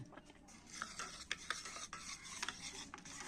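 A spoon stirs honey and amla powder into lukewarm water, giving soft continuous scraping and swishing strokes with small clinks against the cup, close and quiet, no talking.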